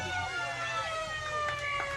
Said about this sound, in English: And we'll have the siren.